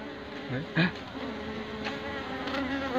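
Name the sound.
honey bees buzzing at their hive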